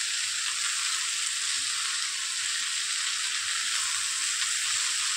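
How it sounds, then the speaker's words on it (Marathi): Water spinach greens sizzle and fry in a pan while being stirred, a steady close hiss throughout with no talk. "मिक्स करून घेते भाजी।"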